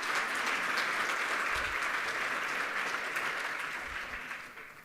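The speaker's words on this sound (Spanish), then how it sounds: "pido un caluroso aplauso" Warm applause from a conference audience at a Chilean energy-transition forum. The clapping is dense and even at first, then thins and fades toward the end, with no speech over it.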